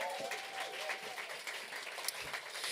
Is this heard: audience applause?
yes